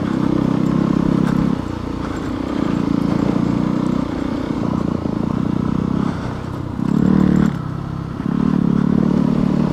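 A Yamaha WR250R motorcycle ridden through the Rockies, its engine droning steadily with repeated dips and surges as the throttle is rolled off and on, close and loud with some rattling clatter.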